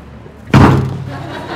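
A door slams shut with one loud, close thud followed by a short ringing decay, in an Arabic-speaking hidden-camera prank setting.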